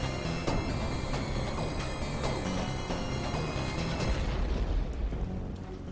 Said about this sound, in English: The platform collapsed after the ballistic abuse from all the missiles.